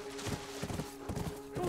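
Horse hooves clip-clopping in a video game, a rhythmic run of clattering hoofbeats at moderate loudness that hold a steady pace throughout.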